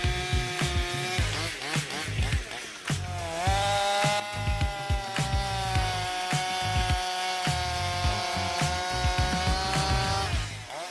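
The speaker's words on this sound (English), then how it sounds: "This chainsaw easily tackles precision jobs, making it the right choice for professional loggers." A 94 cc chainsaw engine cuts through wood, its loud, continuous high-pitched whine dipping and rising as the load changes, with no voices.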